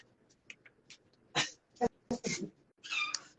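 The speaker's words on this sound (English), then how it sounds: "Sorry, my cat just fell." An indoor house cat falls, making a few sharp close thumps and scuffles mixed with brief cat vocal sounds. Quiet rustling runs between them.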